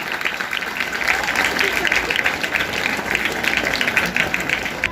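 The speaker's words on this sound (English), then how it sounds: "I humbly request you a big round of applause for him." An audience at a school investiture ceremony applauds a PE teacher, sustained clapping from a crowd heard at moderate distance, with a low rumbling hum running underneath.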